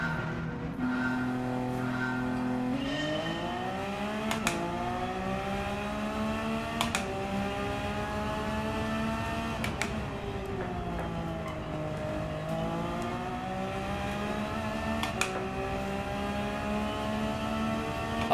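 Race car engines from Gran Turismo 7 rev and climb in pitch at a race start. Several cars accelerate and shift repeatedly in a steady, loud, continuous drone.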